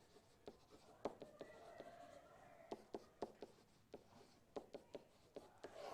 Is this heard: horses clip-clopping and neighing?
no